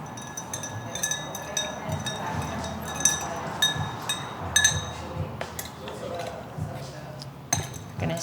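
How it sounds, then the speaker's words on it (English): A gin cocktail is stirred with ice in a mixing glass, giving a close run of light clinks and ice rattles with irregular taps. "We're gonna give the cocktail a nice stir to get it nice and cold."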